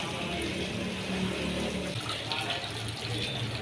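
Liquid drained off boiled food during cooking for a boodle fight, a steady rushing pour of water throughout, close by, with quiet talk faintly underneath.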